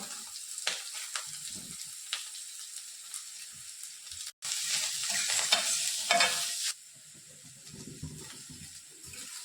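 Onions being sautéed and stirred in a pan for a dhaba-style matar paneer gravy, with steady sizzling and scraping stirs, a brief pause midway, then a louder burst of frying before it settles to a softer sizzle.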